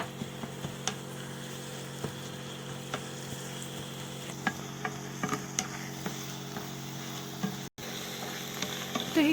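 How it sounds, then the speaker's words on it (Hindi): Spinach fries in a pan with a low, steady sizzle and occasional light ticks and taps from a utensil. "पालक फ्राई करें"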